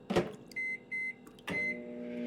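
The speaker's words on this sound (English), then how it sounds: "Oh, we're eating our microwave dinner." A microwave oven in the Autopsy Sim video game gives three short electronic beeps, then hums as it starts running, close and fairly quiet with a click at the start and no talk.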